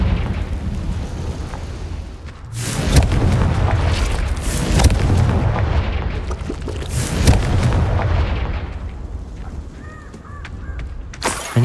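A Confringo fire spell explodes in Hogwarts Legacy: a sudden loud blast gives way to a long roaring, crackling rumble with repeated booms, then eases off toward the end.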